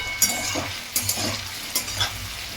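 Potato and cauliflower being stirred in a frying pan, a steady sizzle broken by several distinct scraping strokes of the spatula, close and clear with no talk.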